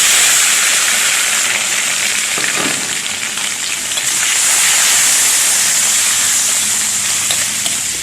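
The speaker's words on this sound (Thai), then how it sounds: "เราจะหมึกลงไปผัดเลยนะคะ" Squid stir-fried in hot oil with garlic, for a squid and salted egg dish, makes a loud continuous sizzle and hiss up close. Faint spatula movements run through it, with no speech.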